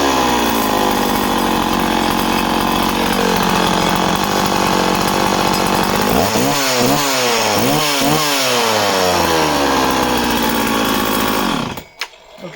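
A Husqvarna 50 chainsaw runs loud and close at a steady roar, then revs up and down in several rising-and-falling bursts before cutting off abruptly near the end.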